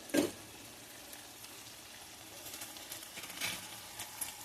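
Chicken curry sizzles steadily in a pan as a spoonful of biryani masala goes in. The frying is a soft, continuous hiss, with a few brief louder bursts near the start and around the middle.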